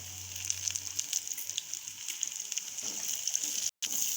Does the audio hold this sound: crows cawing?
no